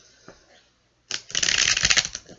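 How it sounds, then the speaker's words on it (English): Tarot cards are shuffled by hand, a short, close riffling flutter that starts after a brief quiet moment and runs for about a second, with no speech over it. "one more shuffle"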